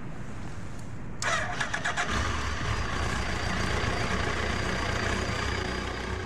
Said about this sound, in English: So when I authenticate, the bike powers up.